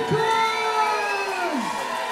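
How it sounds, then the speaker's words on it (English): Audience at a Christmas wrestling show cheering and whooping loudly in a packed hall, a sustained roar of many voices with shouts rising above it. "make some noise for Tyler Bate and Santa"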